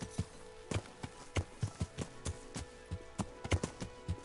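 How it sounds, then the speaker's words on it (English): Horse hooves clip-clop at a steady walking pace on firm ground in a medieval video game, a regular rhythm of distinct, moderately quiet hoof strikes over faint background ambience. "Magical horse."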